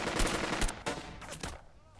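Squads firing in the tactical war game Burden of Command, a few loud bursts of gunfire and sharp shots close together, fading over about two seconds with no talk.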